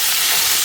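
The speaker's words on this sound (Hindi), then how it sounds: "चुड़ आवाज़ बहुत अच्छी लगती है, तो भाई हमने डाल लिया है ये दाल के अंदर" Hot tadka tempering poured into a pot of dal gives a loud, steady broadband sizzle and hiss that fills the short moment with no break, close up and alone.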